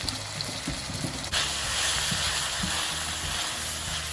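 Coconut noodles frying in melted coconut oil in a pan, a dense close sizzle and hiss that swells louder after about a second and then holds steady with no talking.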